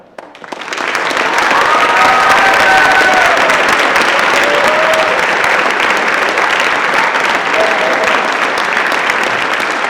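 Sustained audience applause for award recipients at a school fine arts awards night, loud and steady from a large crowd after a quick swell at the start, continuing nearly ten seconds with a few faint voices or whistles in the mix.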